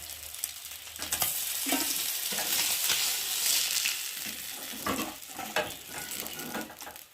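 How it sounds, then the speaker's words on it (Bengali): Small chuno fish fry in a pan, a steady loud sizzle with stirring scrapes and clinks of utensil against the pan, continuous throughout. "এখন বন্ধুরা মাছগুলো ভালোভাবে দুপিট এপিট করে ভালো করে ভেজে নিয়েছি"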